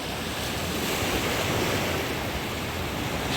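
Steady sea surf rolling in at Moulay Bousselham beach in Morocco, a continuous broadband wash of breaking waves with some wind rumble, no voices.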